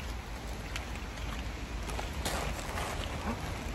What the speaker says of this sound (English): I know you can see the rain now